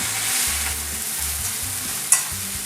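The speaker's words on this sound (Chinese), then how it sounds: "再炒一炒" Boiled instant noodles are tossed and stirred in a hot wok, giving a steady sizzle with soft scraping strokes and a sharp clink near the end; no talking.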